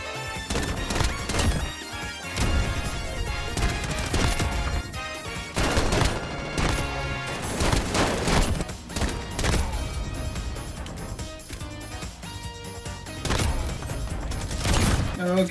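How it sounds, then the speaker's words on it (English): Desert Eagle pistol fired without a suppressor in a video game, its sharp shots mixed into a busy, loud barrage of gunfire, explosions and in-game sound effects. "the deagle sounds so good without a suppressor"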